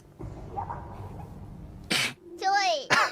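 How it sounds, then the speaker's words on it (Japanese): A sharp sneeze from a Hololive streamer bursts out, followed by a squeaky, high-pitched voiced cry and a second quick sneeze-like burst, close and loud after a stretch of quiet speech. "why do you sneeze like that?"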